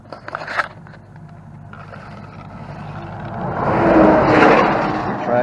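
Stretched Arrma Typhon RC car with a 1721 2400kv motor, geared down, running: a few brief scrapes and clicks, then a rising whine and rush of motor and tires that swells and holds.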